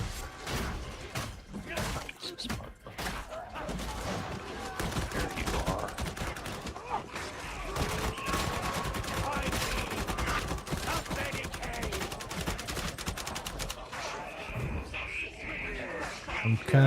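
Sustained heavy gunfire in a shooter video game, dense loud bursts and thuds continuing almost without pause, with players talking over it.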